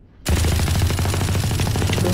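Rapid sustained machine gun fire in the Valorant video game, a loud dense burst of rattling shots starting abruptly after a brief quiet moment and continuing without pause.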